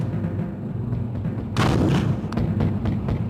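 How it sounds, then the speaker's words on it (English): WWII anti-aircraft flak bursts near an RAF bomber on a raid against a Luftwaffe base, a sudden loud crackling blast over the steady drone of aircraft engines. "Here comes the flak."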